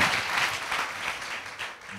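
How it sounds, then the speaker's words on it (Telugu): A church congregation claps together during a sermon, a continuous wash of many hands at moderate distance, fairly soft and even with small surges, no voices on top. "చప్పట్లు కొట్టండి చప్పట్లు కొట్టండి చప్పట్లు కొట్టండి"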